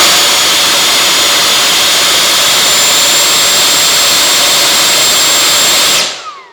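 FMS Avanti S 90mm electric ducted fan jet model run at high throttle on the ground, a loud, piercing continuous whine held steady close by, then spooling down abruptly at the end.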